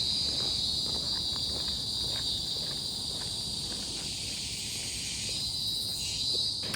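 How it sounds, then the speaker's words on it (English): Cicadas in the Bukit Timah forest in Singapore give a loud, steady high-pitched drone that runs unbroken throughout, with faint scattered rustles and footsteps beneath. "just enjoying the bird sound, the cicadas"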